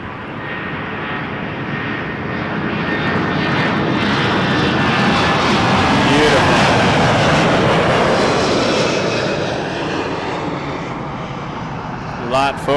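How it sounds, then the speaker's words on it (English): A Boeing 787-8 Dreamliner takes off at Toronto Pearson Airport, its jet engines a loud, sustained roar that swells and slowly fades over about twelve seconds. "787-8 Dreamliner about to take off."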